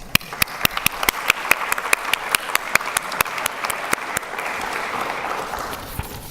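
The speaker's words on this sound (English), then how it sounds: "Please join me in applauding them for their support and service to our community during this devastating hurricane and its aftermath." An audience applauds at a flooding and water reuse conference, with sharp individual claps ringing out in a steady rhythm at first, then merging into a broad, sustained wash of clapping.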